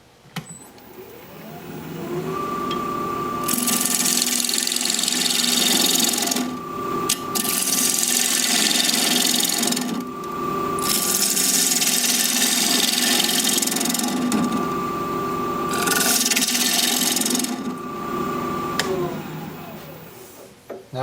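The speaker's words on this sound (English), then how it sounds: "So we're going to be turning at 1300 RPM, 5/8 inch bowl gouge, mask and face shield on." A wood lathe spinning at 1300 RPM as a 5/8 inch bowl gouge cuts into a turning blank, giving a steady motor hum under rough scraping passes that swell and pause in several long sections.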